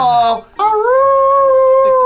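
A long, wavering howl imitating dogs and wolves at a full moon, loud and close, starting after a brief higher vocal and a short pause.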